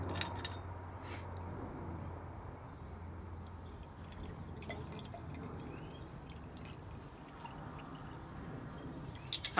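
Vodka poured into a bottle to make whiskey, a quiet, steady trickle with a few drips across nearly ten seconds, no voices.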